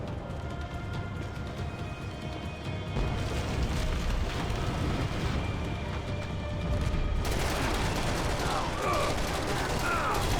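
Sustained gunfire in Max Payne 3 rattles continuously, with dense rapid shots and booming blasts that grow louder and heavier partway through, mixed with faint talk.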